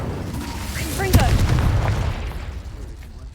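Confringo and Incendio spells explode in the video game Hogwarts Legacy, a single deep boom with crackling bursts that fades over a few seconds, while a voice talks.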